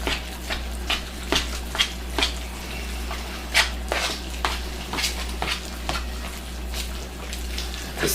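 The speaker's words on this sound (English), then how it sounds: "start stirring my spinach into it" Spinach stirred by spoon into a baked ziti mixture in a pot, giving a run of soft wet squelches and scraping clicks at an uneven rhythm, close and fairly quiet, with no talking.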